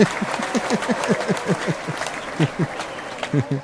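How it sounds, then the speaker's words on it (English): Polite golf-style applause from a small gathering of guests on a talk show set, light steady clapping running for a few seconds with overlapping voices. "Caitlin with the golf applause."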